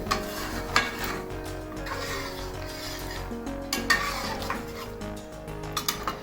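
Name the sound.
stirring mutton charsi karahi in pot over high flame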